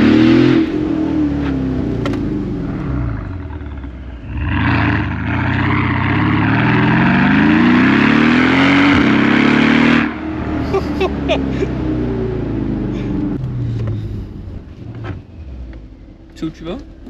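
A Brabus convertible's engine revs hard while driving, its pitch climbing and falling through gear changes in a loud, throaty roar before dropping back to a quieter cruise with wind noise.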